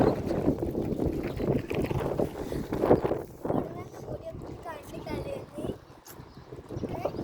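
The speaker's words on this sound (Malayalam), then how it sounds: "പൊടിയില്ല, നല്ല കാറ്റുണ്ട്" Steady wind rushing and buffeting the microphone while riding in an open jeep, continuous and fairly loud, with talking over it throughout.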